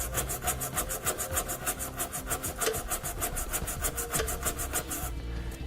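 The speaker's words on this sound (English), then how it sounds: "I'm going to come back with a nylon tube brush. I'm going to clean it out" A nylon tube brush scrubs rust and debris out of a hitch bolt hole in the frame of a 2015 Chevrolet Equinox, giving fast, even back-and-forth rasping strokes, close and fairly quiet, with no talking.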